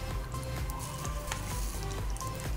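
Urad dal, mustard seeds and a dried red chili sizzle in hot oil as a tempering for keerai molagootal, giving a steady close crackle with small pops throughout.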